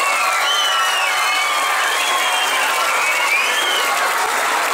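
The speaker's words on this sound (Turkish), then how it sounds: "Buradan bu organizasyona katılan tüm çocuklara, tüm gençlere kocaman bir alkış istiyorum." A crowd applauds at a Başakşehir Victory Day centennial celebration, a loud, dense, continuous roll of clapping that stays steady from start to finish with faint cheering mixed in.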